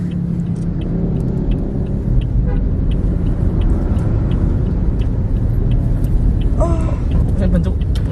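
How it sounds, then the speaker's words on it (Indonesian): A car drives past on a street, its steady engine rumble filling the scene, with road noise and people chatting under it. "mobil lewat"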